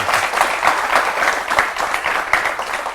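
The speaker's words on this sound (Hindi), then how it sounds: "जोरदार तालियों से स्वागत कीजिए मेजर गौरव आर्या का।" A studio audience on an Indian television news debate show applauds loudly to welcome a guest, a dense, close burst of many hands clapping that carries on evenly throughout.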